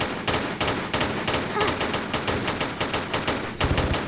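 Pistol fire aimed at an enemy in a Tomb Raider level editor game, a fast, even string of loud close shots repeating without pause, with a heavier burst landing near the end.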